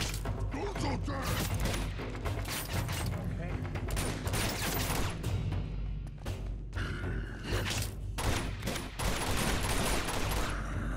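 Dense, continuous gunfire in Uncharted 2 during a fight with Shambhala's guardians: rapid overlapping shots and mechanical clatter fill the whole stretch at close range, with occasional voices underneath.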